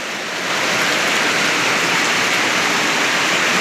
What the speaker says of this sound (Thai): ฝนตกแรงอีกแล้ว